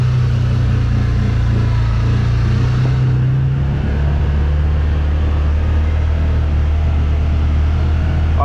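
A CFMOTO UFORCE 1000 side-by-side running on a performance tune over rough, rutted ground, its engine droning at a steady mid pitch with a constant rumble that shifts lower partway through, with no talk.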